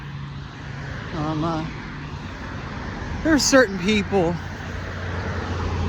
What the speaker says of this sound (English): I'm gonna wait until their cars are gone, so you all can hear me.